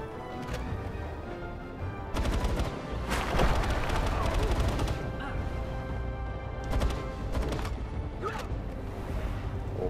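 Gunfire in the video game Palworld: several sharp, loud shots land irregularly against a busy game backdrop, while someone talks throughout.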